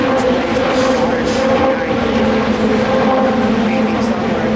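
A 1971 Brawner McGee Scorpion #64 Indy 500 racecar with a turbocharged engine runs nearby, a loud, steady, rumbling drone with a constant pitch throughout.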